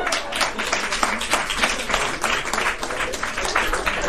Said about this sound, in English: you clap too quick